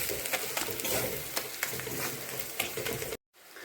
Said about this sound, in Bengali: দিয়ে এখন এই সব মশলাগুলো ভালো করে ভেজে নেব।